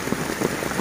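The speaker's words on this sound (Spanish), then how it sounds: "Ahorita apenas empieza la lluvia" Rain just beginning during Hurricane Nora in Acapulco, a brief steady patter of drops striking a hard surface, moderately loud and even, with no voices.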